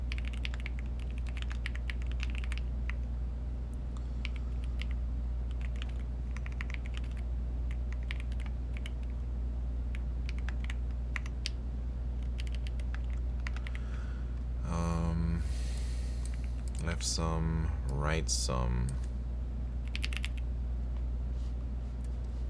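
Clicky keystrokes on a Bubble 75 computer keyboard patter in quick irregular bursts during algorithm practice, close and steady, with brief speech midway.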